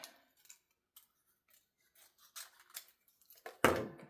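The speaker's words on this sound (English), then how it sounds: "Now I want to trim this down a little bit more so that I'm not getting things stuck to it." Scissors trimming paper for a craft project, a series of soft close snips at irregular intervals in a quiet room, ending with one louder, crisper cut.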